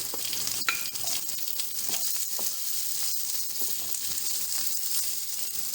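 Capsicum, carrot and onion being stir-fried in a pan for restaurant-style dry chicken manchurian, with a steady close sizzle and occasional scraping stir sounds.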